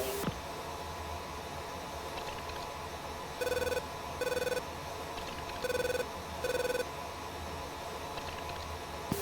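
A telephone rings inside the Falcon BMS flight simulator, four evenly spaced double-burst electronic trills over a constant airy cockpit hum.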